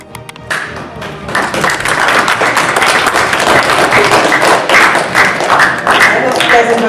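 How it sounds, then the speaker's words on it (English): A seated audience claps after a presentation, dense and steady applause, loud and close, holding for several seconds with occasional cheers over it. "Obviously you did your clapping."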